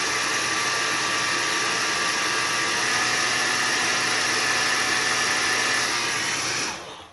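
A hair dryer blows a steady, loud broadband rush of air for several seconds while warming then cooling eyelashes curled with mascara, then cuts off and fades out at the end.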